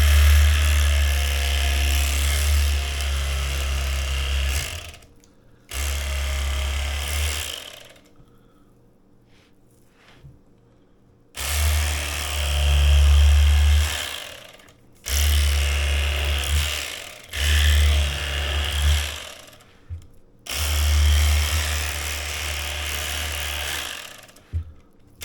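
A chainsaw cuts through a pork shoulder butt in repeated bursts, each several seconds long, separated by short pauses. The buzzing drone is loud and close, and no voices are heard.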